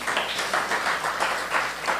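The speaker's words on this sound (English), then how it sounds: "give Rosanna a round of applause" An audience applauds for Rosanna at a Pontiac community partnership gathering, with dense steady clapping and rippling bursts running throughout at a moderate level.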